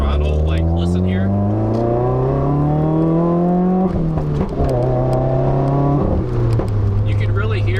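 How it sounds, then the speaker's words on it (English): A 2015 Subaru WRX with an electronic boost controller pulls under throttle, its engine drone climbing steadily in pitch with a turbo whine on top, dipping twice as boost is modulated, loud and close from inside the car. "You can really hear the turbo, and also you can hear it kind of maintaining and modulating the boost"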